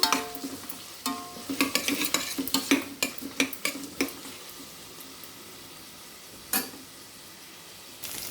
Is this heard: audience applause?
no